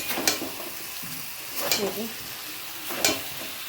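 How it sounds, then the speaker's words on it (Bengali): Chicken fries in a pan with a continuous sizzling hiss, while a spoon or spatula stirs it in three separate scraping sweeps spaced about a second and a half apart, near and moderately loud. "আজকে এই যে চিকেন রান্না হচ্ছে"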